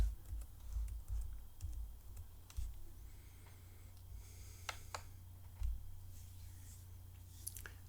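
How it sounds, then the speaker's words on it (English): Quiet clicks of a computer keyboard as a password is typed on a Linux Mint machine, scattered keystrokes in irregular bursts over a low background hum, with no talking. "You have to enter your password"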